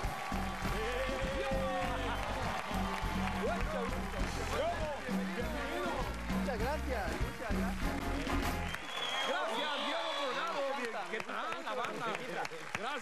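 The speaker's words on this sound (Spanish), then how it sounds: "Recibamos con un fuerte aplauso a Diogo Morgado." A television studio audience on the talk show Noches con Platanito applauds and cheers loudly to welcome actor Diogo Morgado, with shouts rising over sustained clapping and a music bed that drops out near the end.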